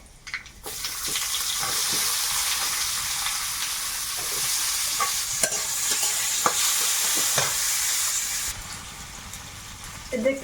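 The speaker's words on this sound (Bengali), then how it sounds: "তেলে একটু পাঁচ ফোড়ন দিই তেজপাতা পেঁয়াজ কুচি দেবো" Panch phoron, bay leaf and chopped onion hitting hot oil in a pan, a steady broad sizzle for several seconds with occasional sharp pops and utensil clicks, moderately close, then tapering off.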